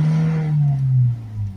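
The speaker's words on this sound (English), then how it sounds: "you should now get higher revs" A Ford Transit van engine with a cleared glow plug circuit fault revs higher, a steady loud hum that swells and eases over under two seconds with no talk.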